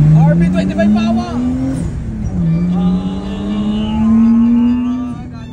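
A Nissan Skyline R32 with an RB25 engine and a new muffler revs up loud and close, its exhaust note rising in pitch, dipping briefly and climbing again.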